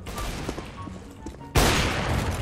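Gunfire from an AWP sniper rifle in the video game CS:GO, a single loud sharp shot arriving after a stretch of quieter game ambience.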